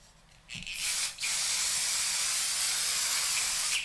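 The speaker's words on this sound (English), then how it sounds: "I am going to spray my Revolution Super Fix Hydra Cool." A spray bottle of Revolution Super Fix Hydra Cool setting spray hisses close by, first a short spritz, then a long steady mist that lasts a few seconds.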